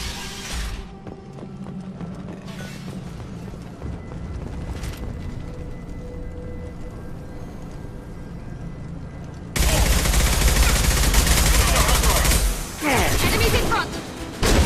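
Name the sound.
gunfire in video game Mass Effect 2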